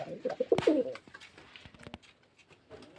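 Racing pigeons coo at a seller's loft, one strong rolling coo up close in the first second followed by softer scattered calls and light rustling.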